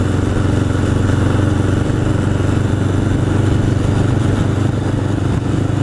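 A 1981 Honda CB750 Custom motorcycle ridden near East Hampton, New York: a steady, loud engine drone with heavy wind rush, continuous and close throughout.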